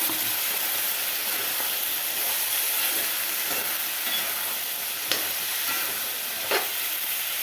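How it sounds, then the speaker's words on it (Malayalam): Green chillies sauté in a hot pan with salt, giving a steady close sizzle and hiss with occasional stirring scrapes and clinks. "അപ്പം നമുക്കിനി ഈ മുളകും കൂടി ഇട്ട് വഴറ്റാം"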